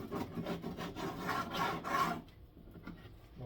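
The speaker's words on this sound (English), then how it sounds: "You're basically just going to take your hive tool, scrape it off." A hive tool scrapes old wax off beehive foundation in close, rasping strokes, several rhythmic scrapes that trail off into quieter rubbing.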